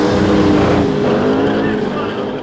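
Classic race car number 22 pulls away from the start line, its engine roaring loud and close with a rising, harmonic-rich tone over a brief 2.5 seconds.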